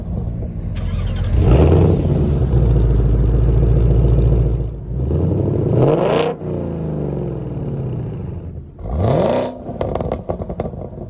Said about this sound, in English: We're gonna let you hear the engine, let you hear the exhaust